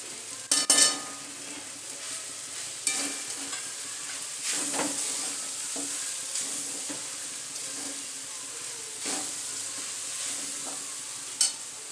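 Sabudana khichdi with potato and crushed peanuts sizzles in a pan as it is stirred, a steady fry hiss broken by scraping spoon strokes and a few sharp clinks against the pan.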